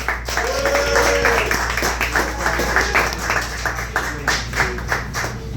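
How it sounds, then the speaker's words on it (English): Audience applause for a comedian at a comedy show in a pizza restaurant, steady clapping from a small crowd that holds for several seconds, with a few voices and a low hum underneath. "Clap it up for the Wise Man!"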